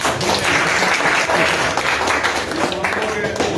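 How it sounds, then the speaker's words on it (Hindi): Steady audience applause fills a farewell ceremony honoring a retiring district education officer, dense continuous clapping at a consistent loud level throughout with faint voices mixed beneath. "तालियां बजाइए।"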